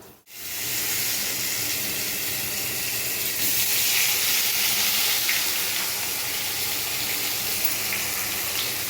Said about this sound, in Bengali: এবার মশলাটা আমার অল্প অল্প ফুটতে শুরু করে দিয়েছে